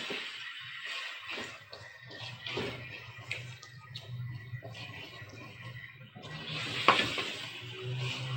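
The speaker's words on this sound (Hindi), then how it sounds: "इसको भी हम 5 मिनट तक इसकी भुनाई करेंगे" Chana masala roasts in ghee in a pan, giving a quiet, steady sizzle with intermittent stirring scrapes and soft clinks.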